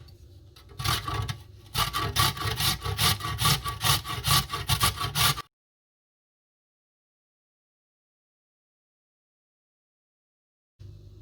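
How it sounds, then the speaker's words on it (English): Carrots being shredded gently on the largest holes of a large box grater, a rhythmic run of close, even scraping strokes for about five seconds, then silence with a brief scrape at the very end. "Take a large sized box grater, and on the largest holes, start grating gently."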